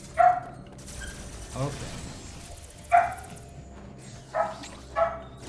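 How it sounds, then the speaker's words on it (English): Several dogs bark in short bursts at a moderate distance, about five sharp barks spread out with pauses, under a steady background hum while a person speaks briefly. "Dogs are getting too noisy."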